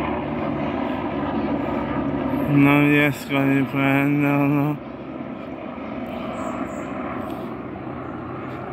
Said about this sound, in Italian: c'è un elicottero